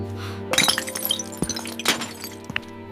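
Glass shattering indoors, a burst of breaking glass followed by scattered clinks and a second crash as pieces fall, loud and close with no talk over it.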